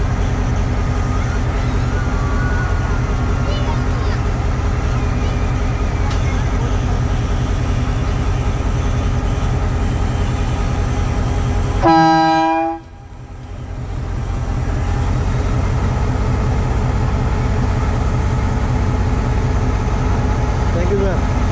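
A GMU 15 diesel locomotive at Dadu railway station rumbles steadily and loudly, then a single long horn blast cuts in before the engine roar continues.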